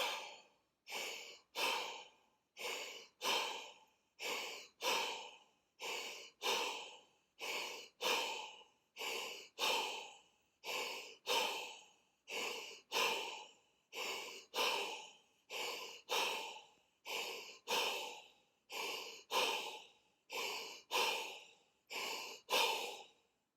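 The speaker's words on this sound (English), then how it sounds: "I'm going to do about 10 breaths." Deep open-mouth breathwork, a long run of slow rhythmic breaths, each a soft airy rush that swells and fades, repeated steadily and close with brief pauses between, no talking.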